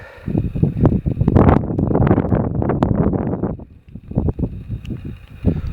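Strong gusts on a mountain ridge buffet the microphone in rough, rumbling bursts, easing briefly before picking up again.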